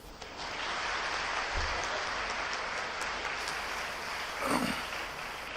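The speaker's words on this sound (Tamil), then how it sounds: "கைத்தட்டுங்க" Women college students clap in an auditorium at a silver jubilee celebration, a broad steady patter of many hands at moderate volume, with a brief thump and a short voice near the end.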